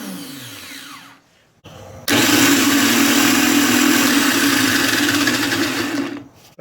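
A new starter motor cranks a Nissan Maxima engine via a jumper wire touched to the battery positive, a loud, smooth, steady whir close by lasting about four seconds after a brief short burst.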